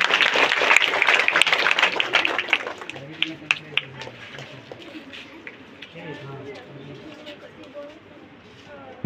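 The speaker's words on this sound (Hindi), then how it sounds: "जोरदार तालियां हो जाए।" A school crowd claps in a dense burst of applause that thins out over several seconds, with coo-like voices and scattered chatter continuing beneath.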